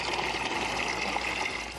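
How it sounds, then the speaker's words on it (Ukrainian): Water gushes steadily into containers at a tap in war-hit Toretsk, a continuous loud rushing flow with no pauses. "Набираю води."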